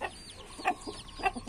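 A mother hen and her chicks close by, with a few short clucks and thin peeps in quick bursts against quiet farmyard background.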